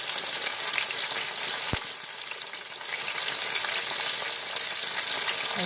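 Summer cep mushrooms fry in a pan with a steady, close crackling sizzle that carries on without a break, broken by a single brief clink partway through.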